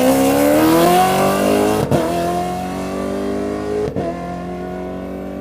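Ford rally race car accelerating hard in the desert, a loud close engine roar climbing in pitch and punctuated by two sharp gear shifts, with no voices over it.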